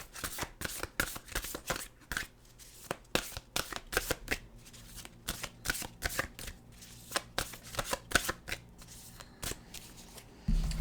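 Cards are shuffled repeatedly, a quick series of crisp riffling bursts with short pauses between them, close and fairly quiet.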